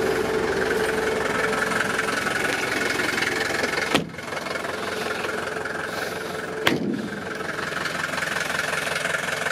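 Steady idle of a 1969 vintage Mercedes diesel engine, running continuously at close range with an even, rough rumble, broken by two brief clunks or knocks partway through.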